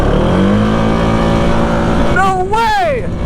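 A four-wheeler ATV engine races loud and close, holding a steady drone before revving hard, its pitch climbing steeply and then dropping near the end.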